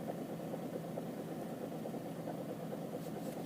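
A diesel engine idles at a steady, fairly quiet drone, a continuous low rumble with no clear change; any intermittent ticking knock is not distinct, and no one talks.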